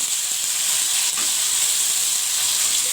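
Chicken and masala frying in a pan while being stirred for an arvi chicken curry, a loud steady sizzle and hiss with a faint scrape of stirring, no voices.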